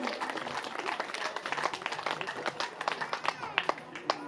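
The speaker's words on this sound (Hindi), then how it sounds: "जोरदार ताली स्वागत कीजिए।" A crowd at a Shrimad Bhagwat Katha religious gathering breaks into welcoming applause, a loud mass of claps that thins into scattered individual hand claps near the end.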